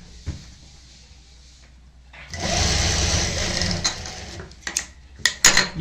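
A sewing machine stitches a Pakistani-style salwar, starting with a short burst of motor whir, then a sustained run of stitching, followed by a few brief stop-start bursts close by, with no talking.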